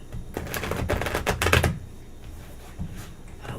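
Tarot cards are shuffled close up in a quick riffle of crisp flutters and snaps, peaking and then settling into a few soft taps and slides of the deck.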